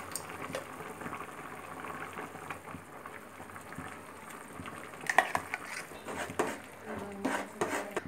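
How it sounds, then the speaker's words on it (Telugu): Mashed lentils stirred into boiling tamarind broth for sambar: a soft, steady bubbling simmer with gentle stirring and liquid sloshing, fairly quiet and close. "చింతపండు పులుసు బాగా మరిగిన తర్వాత ఇప్పుడు మనం గ్రైండ్ చేసి పెట్టుకున్న పప్పుని ఇందులో వేసుకొని"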